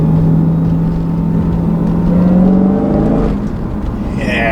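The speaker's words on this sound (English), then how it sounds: "the supercharger whine and then the immediate power is freaking awesome" A 2016 Dodge Challenger Hellcat with a six-speed manual accelerates hard, its loud engine roar rising and a supercharger whine climbing in pitch, heard steadily from inside the car.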